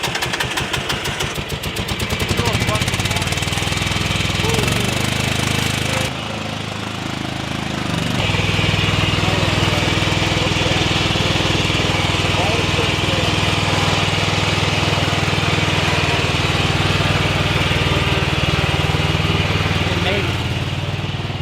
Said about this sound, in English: You get this cold start action.